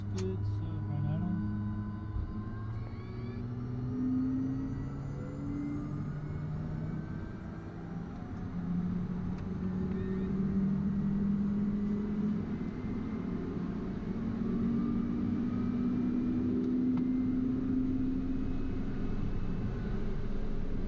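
A Pilatus PC-12 turboprop engine spools up from start with a rising whine and steady roar, then holds at a droning idle close by, with a pilot's voice talking faintly under it.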